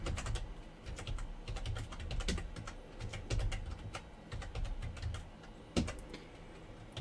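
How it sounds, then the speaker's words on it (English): Steady typing on a computer keyboard, with quick clusters of clicks and a few louder keystrokes, close and clear with no talking. "So here I'm typing in the stuff."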